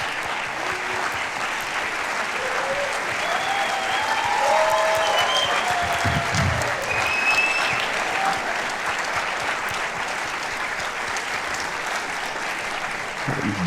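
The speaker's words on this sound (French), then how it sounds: "je vais vous demander d'accueillir avec moi sur scène Basile Dacunha et toute son équipe sous un tonnerre d'applaudissements" A cinema audience at a film premiere at the Cinémathèque suisse gives sustained, dense applause that holds steady and loud throughout, with no talk over it.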